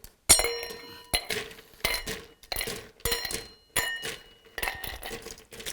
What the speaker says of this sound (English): So we're going to fill the glass with ice.